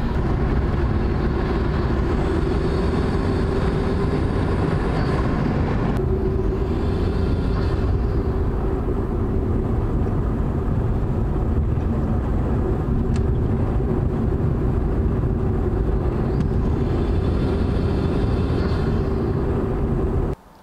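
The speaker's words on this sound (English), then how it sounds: "after you put in that cold air intake, this car sounds completely different at higher speeds." Turbocharged car fitted with a cold air intake driving at speed, a loud, steady roar of engine, wind and road noise with slight rises and dips in pitch throughout, no voices.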